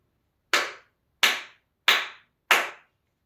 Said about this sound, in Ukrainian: Тепер ви разом давайте зі мною будете плескати 4 рази у долоні.